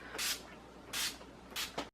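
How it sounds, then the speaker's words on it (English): An All Nighter setting spray is misted onto a face in three short, close hissing bursts, the last one split into two quick puffs, with quiet between them. "I'm going to spray my face again, just with all-nighter this time"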